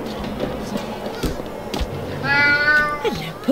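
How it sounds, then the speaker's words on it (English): A cat meows in the video game Alice: Madness Returns, a pair of rising and falling cries near the end set against ambient game sound and a few soft thumps. "Oh. Was that a kitty cat?"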